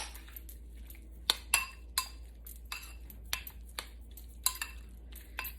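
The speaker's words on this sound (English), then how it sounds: "Mix that up." A spoon stirring a mixture in a bowl, scattered close clinks and scrapes against the bowl at an irregular pace, fairly faint, with no voices.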